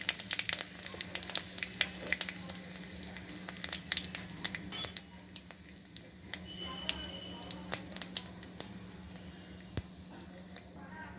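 Fennel seeds, with ginger and asafoetida, fry in a tablespoon of hot mustard oil, giving faint, scattered crackles and pops over a low steady hum, with one louder clatter midway.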